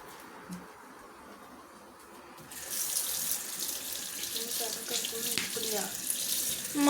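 A household tap runs for hand washing, the steady splash starting a few seconds in after quiet room sound and continuing close and moderately loud.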